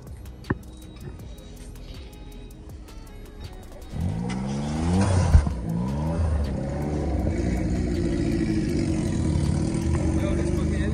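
Two small JDM kei cars, a Suzuki Cappuccino and a Honda Beat, race off together. Their engines start as a low idle, then rev up sharply into a loud, rising whine that holds steady through the run. The engines are quite close, and no one speaks.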